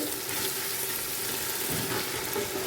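Ingredients sautéing in a pan for chicken biryani give a steady, close sizzle and hiss with faint scraping, continuous throughout and without talk.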